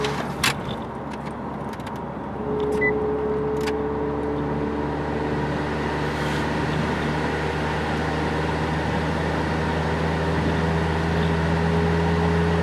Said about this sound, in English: we can try the AC again.